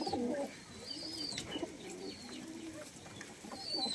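Madrasi pigeons in a loft giving soft, low cooing calls at close range, with faint higher bird chirps and light background noise.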